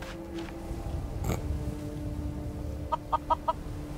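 Chicken clucking in the video game Skyrim, a quick run of four short, fairly faint clucks near the end over a low ambient game background, with one brief rustling burst earlier.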